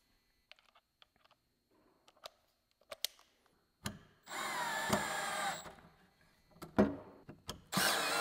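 A small right-angle power drill whirs in short bursts during a custom tool trailer build-out, close and loud, coming after a few scattered handling clicks and taps, with no talking.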